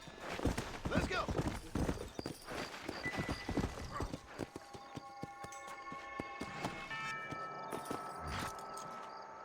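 Horse hooves clip-clopping in a steady walking rhythm in the video game Red Dead Redemption, with a whinny and game music tones later, someone talking over it.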